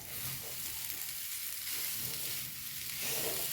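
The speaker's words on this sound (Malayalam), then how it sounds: "ഒന്ന് ഇളക്കി കൊടുക്കാം കേട്ടോ" Steady sizzling of banana dessert frying in a pan, with soft stirring scrapes running continuously and close by for a few seconds.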